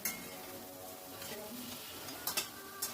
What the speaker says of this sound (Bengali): অনবরত নেড়ে নেড়ে ডিমটাকে খুব ভালো করে ভেজে নিতে হবে